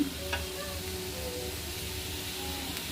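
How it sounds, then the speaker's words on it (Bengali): Soft, continuous frying sizzle of potatoes in a pan, a low even hiss with faint clicks from stirring. "আর এখানে দেখো আলু ভাজা করছি"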